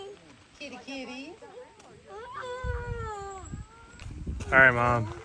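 A cat meows several times in a row, with rising and falling cries heard at a moderate distance outdoors during a bike ride, mixed with some rustling noise and faint breathy sounds.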